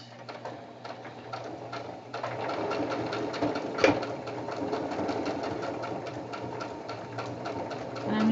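A sewing machine stitches slowly along a small leaf-shaped pillow of recycled fabric, its steady rapid needle clatter running close and fairly quiet, building slightly in intensity partway through with a sharp click near the middle.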